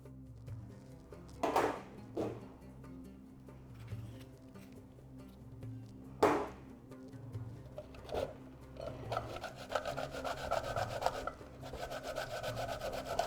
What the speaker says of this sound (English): I will also grate the tomatoes.